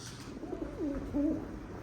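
A dove-like bird gives a couple of soft, low, murmuring coos close by over a quiet background.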